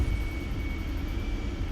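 An F-14 Tomcat jet engine in Microsoft Flight Simulator being throttled back while landing, a steady droning roar with a thin whine running through it, even and unbroken.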